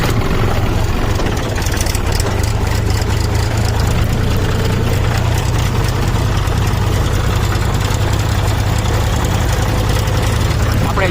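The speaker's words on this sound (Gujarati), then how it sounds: "આજે તો કરી આપણે ટ્રેક્ટરની સવારી." A village tractor carrying riders before sunrise runs with a loud, continuous low engine drone and rattling vibration that stays constant for the whole stretch.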